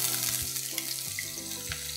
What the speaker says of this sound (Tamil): தேங்காய் எண்ணெய் சேர்த்துக்கிட்டோம். என்ன சூடாயிருச்சு, இதெல்லாம் நல்லா ஃபைனாக சாப் பண்ண பச்சை மிளகாய்